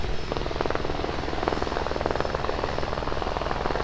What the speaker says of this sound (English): And the helicopter's almost back.